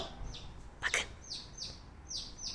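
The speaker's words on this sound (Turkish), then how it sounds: "yine önce civcivlerin sesi geliyor" Small high-pitched chirps repeat in quick bursts nearby, with a brief spoken word in the middle.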